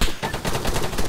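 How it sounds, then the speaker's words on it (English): Rapid overlapping gunfire from many shooters in the ARMA video game, a dense burst of close, sharp shots cracking in quick succession with no pause, no voices. "Everybody's shooting."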